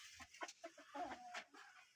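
Chickens cluck repeatedly in short, uneven bursts, close and fairly clear, with no talking over them.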